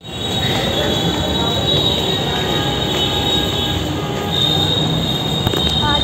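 A metro train rumbles loudly and steadily, with high metallic wheel squeal running throughout and a faint voice in the background.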